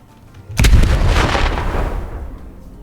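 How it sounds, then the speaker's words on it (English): A single loud video game fuel tank explosion booms close by, a sharp blast followed by a rumbling, crackling decay that fades over about two seconds. "Loud explosion sound when the fuel tank is activated or destroyed."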